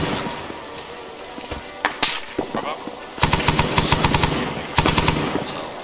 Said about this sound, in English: Currently engaged in a firefight.